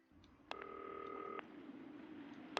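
Telephone in the video game Not For Broadcast rings once in a steady electronic burst, then a short click, heard alone over a low background hum.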